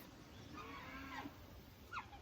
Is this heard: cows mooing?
yes